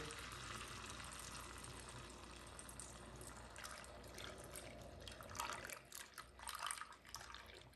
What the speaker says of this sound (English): So we've got our milk already measured out. Gonna pour it in slowly.